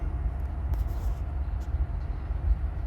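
FEC LNG locomotive-hauled train crossing a bridge in St. Augustine, Florida: a steady, heavy low rumble that holds an even level throughout, with faint higher rattles above it.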